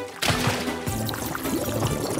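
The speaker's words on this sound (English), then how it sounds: "Morphle, suck up all the water from Vanderboos's yard." Cartoon pet Morphle sucking up water from a flooded yard: a steady gurgling, pouring water rush with a bubbly, wobbling rhythm, loud and close.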